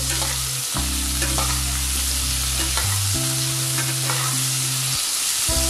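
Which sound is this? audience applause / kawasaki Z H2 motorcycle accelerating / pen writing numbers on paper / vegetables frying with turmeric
vegetables frying with turmeric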